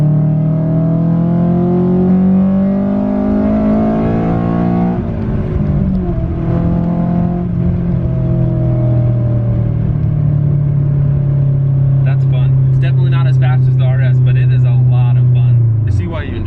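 A 2000 Honda Civic Si (EM1) engine revs hard into VTEC and climbs steeply in pitch, the loud drone rising through the gears before dropping back, with road noise and clicks near the end.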